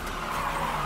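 Car tires skid and squeal in a short, loud burst with engine noise underneath, set during a zombie-film street escape.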